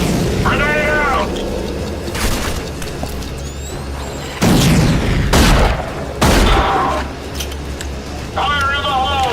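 Grenade explosions and gunfire in the shooter RAGE, several heavy booming blasts in quick succession over continuous combat noise, with shouted voices in between.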